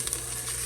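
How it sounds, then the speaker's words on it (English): Breakfast food sizzles and fries in a hot pan, a brief, faint, steady crackling hiss. "now we're getting that sizzle"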